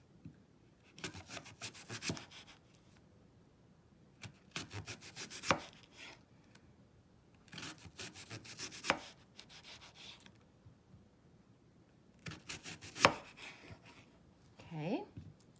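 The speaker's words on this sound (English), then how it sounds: "I'm just going to slice some very thin slices of this Honeycrisp apple" Thin slices cut from a Honeycrisp apple with a knife, several short bursts of quiet crisp chopping scrapes in rhythmic groups separated by pauses, close and soft.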